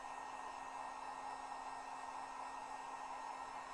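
A heat gun blows steadily and loudly at close range, warming the adhesive behind a badge on a 2022 Chevrolet Silverado 3500 HD Z71, a constant hissing roar with no pauses.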